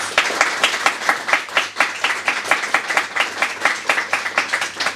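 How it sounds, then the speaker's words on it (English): A small audience claps for four panellists at a NAIDOC Week panel, the individual hand claps distinct and rhythmic at a moderate level rather than a dense roar. "I'd like a big round of applause for our 4 panellists."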